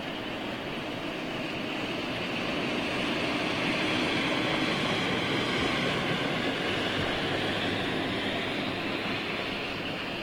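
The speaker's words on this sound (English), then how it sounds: "That Virgin Dreamliner off to Miami as well, ironically enough." Virgin Boeing Dreamliner jet departing Heathrow for Miami, a distant broadband roar that swells slightly and stays steady throughout, with no voices over it.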